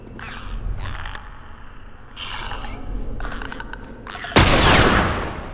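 Gunfire in The Last of Us: a handful of sharp single shots spaced apart, separated by gaps full of game ambience, then a louder blast that lingers into a sustained noisy burst near the end.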